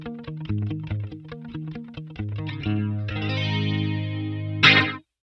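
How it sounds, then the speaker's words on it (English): A Line 6 Helix electric guitar tone with chorus and tape-style echo plays rhythmic repeated chord stabs that swell into a sustained shimmering chord, then a final bright strum cut off sharply, with no voices. "Now that we have the chorus and the echo dialed in"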